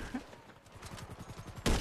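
Rapid bursts of gunfire in GTA Online, a run of quick close shots that ends in a louder burst, with no talking.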